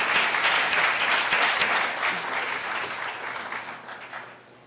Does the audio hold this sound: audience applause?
yes